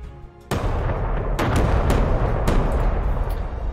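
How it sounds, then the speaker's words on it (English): Carpet bombing in the war game Panzer Corps 2 opens with a sudden heavy blast, then rolls into a sustained rumbling barrage punctuated by several sharp, loud explosions in quick succession. "Time for carpet bombing."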